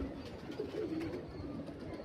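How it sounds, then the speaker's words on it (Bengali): Andhra breed pigeons coo softly with low, murmuring calls, faint and steady across the short stretch with no one talking. "ডাইরেক্ট আনা পায়রা অন্ধ্রপ্রদেশ থেকে।"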